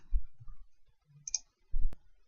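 A computer mouse gives a few quiet, sparse clicks in a silent room, with a sharper click near the end.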